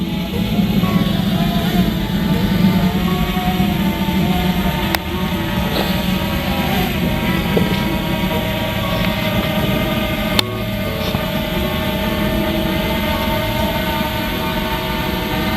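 A Fimi Mini 3 SE drone flies in to land, its steady buzzing propeller whine with layered tonal hum holding loud and close throughout, with a couple of faint clicks along the way and no talk.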